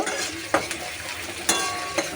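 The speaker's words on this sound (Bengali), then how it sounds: "পেঁয়াজ আর লঙ্কাটা একটু ভাজা ভাজা হবে" Chopped onion and green chili fry in oil with a continuous close sizzle, broken by three brief clicks of a stirring spoon against the pan.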